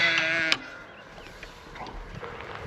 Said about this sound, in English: These 3 little lambs are looking good.